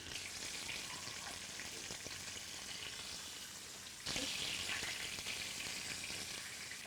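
Stuffed zucchini and yellow squash blossoms fry in a pan with a steady, bright sizzle that swells louder partway through, heard close and without speech.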